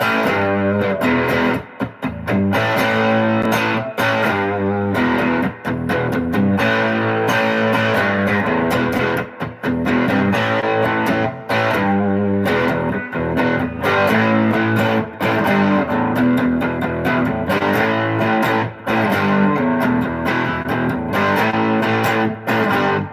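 Electric guitar played through a heavily overdriven amp, gritty distorted chords and riffs ringing continuously with brief pauses between phrases.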